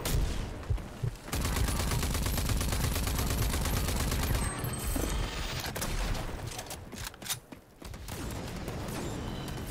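Sustained rapid gunfire fills a Rage 2 shootout against a tower, loud and close with fast rattling bursts, a brief lull near the middle, then more firing.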